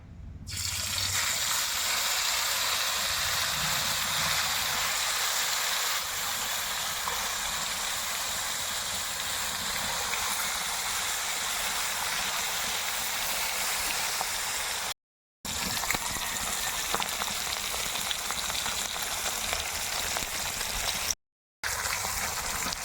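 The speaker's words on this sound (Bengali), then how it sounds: "তেল গরম হয়ে গেছে এখন কই মাছগুলোকে দিয়ে দেবো" Koi fish fry in hot mustard oil in a kadai, giving a steady, loud, continuous hiss and sizzle close by, broken only by two very brief silences.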